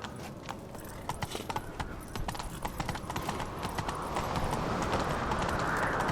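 Rapid hoofbeats of a galloping horse in The Witcher 3: Wild Hunt, close and continuous, building in intensity with a rushing wind-like wash beneath.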